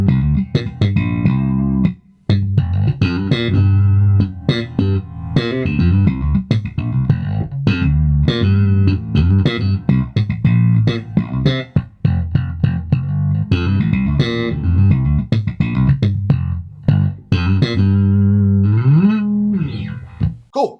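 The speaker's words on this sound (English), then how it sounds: "Brand new Fender American Ultra Jazz Bass, 4-string version of it." Fender American Ultra Jazz Bass 4-string played slap style, with punchy percussive slapped and popped notes in a busy rhythmic line and short pauses, loud and close with no talking.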